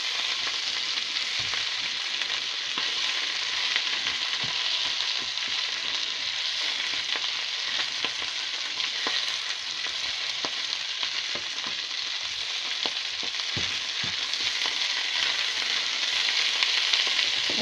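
Sausages fry in bacon grease in a pan with a continuous, even sizzle and small pops throughout, close and fairly loud.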